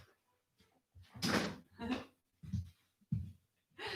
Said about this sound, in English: I'm gonna let him out the door because he wants out.